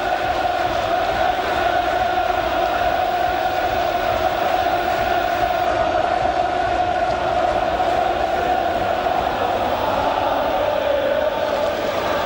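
Big football crowd at a Sheffield United home match in the 1991/92 Division One season, a steady loud roar and cheering in a packed stadium that holds without a break.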